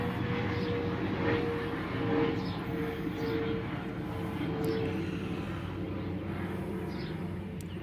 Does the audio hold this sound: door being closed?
no